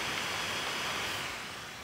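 GMKtec NucBox K8 Ryzen mini PC under heavy load, its fan blowing a louder, even whooshing rush that eases slightly toward the end, with no one speaking.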